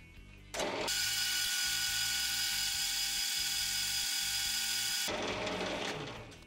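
Homemade knurling tool pressing straight knurls into a workpiece spinning on a metal lathe, a loud, steady grinding whir that holds for about four seconds over the machine's hum before easing off.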